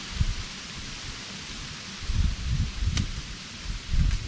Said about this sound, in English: The wind's picking up. Full trees shaking.